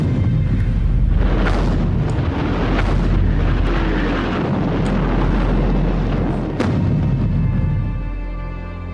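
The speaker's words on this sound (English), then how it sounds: "The offensive there started at 6 a.m. with an hour-long artillery bombardment of German positions." World War I artillery bombardment at the Battle of Beaumont-Hamel, a dense, loud rumble of continuous explosions and booming shell impacts without pause or speech.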